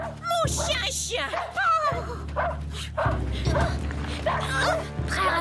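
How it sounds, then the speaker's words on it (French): A cartoon dog barks and yips loudly and close by in a French animated series, giving several sharp barks mixed with whimpering whines in quick succession. "Sultan, mon chien."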